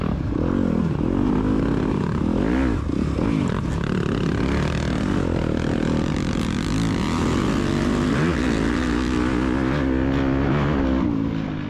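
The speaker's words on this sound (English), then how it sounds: "when you hear his bike from the back and you hear mine from on board, it just sounds completely different" Motocross dirt bike engines roar continuously through a scurry race, one rider's KTM among them, loud and close with rising and falling revs across the whole stretch.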